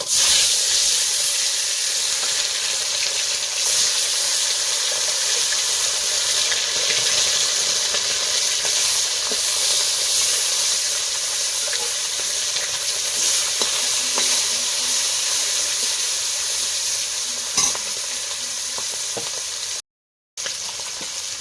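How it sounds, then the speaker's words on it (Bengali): Fish sizzle and hiss steadily as it fries in a kadai over an outdoor wood-fired stove, a loud continuous crackle with occasional faint pops and a brief drop-out near the end. "এবার মাছগুলো দিয়ে দেবো।"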